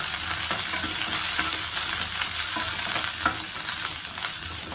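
About ten small onions sautéing with chilies in a pan for vallarai chutney, giving a dense, steady sizzle with light stirring scrapes throughout.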